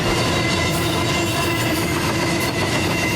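A train rumbling past the historic Mertztown station in Longswamp Township, a loud, steady, dense roar of rolling cars and wheels with faint squealing tones, close and continuous throughout.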